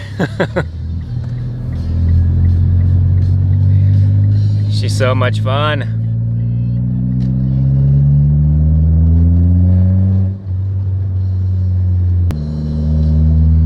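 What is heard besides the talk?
car engine revving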